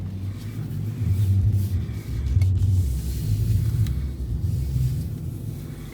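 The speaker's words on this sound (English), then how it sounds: "This hybrid motor does make a good noise." Ford Escape plug-in hybrid engine running while driving at night, a steady low drone and road rumble heard from inside the cabin with no talk.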